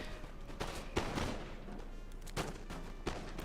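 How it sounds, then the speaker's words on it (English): Musket volleys crack across a Napoleon Total War battle between French and Spanish armies, several ragged bursts of massed gunfire rolling over a constant battlefield din, with a few sharper reports standing out. "He's in range first, so he's going to get the first shots."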